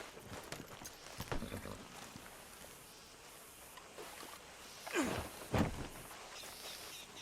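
Horse hooves clip-clop in the Red Dead Redemption 2 video game, a few soft, scattered steps at moderate distance with a couple of louder thuds near the end over faint outdoor ambience.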